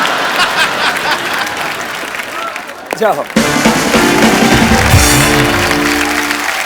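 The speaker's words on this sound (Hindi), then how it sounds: "स्वामी जी के लिए खड़े होकर तालियां बनती हैं" A studio audience at a comedy show gives a standing ovation, a dense wash of clapping and crowd noise that briefly dips, then swells back full and sustained with a voice talking over it.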